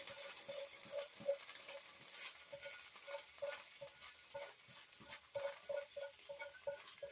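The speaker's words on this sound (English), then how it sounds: "Take this, give it a stir. Nice and crispy, very beautiful." Crispy okra fries in a pan with a quiet crackling sizzle while a spatula stirs and scrapes in short uneven strokes, soft and close, with nobody speaking.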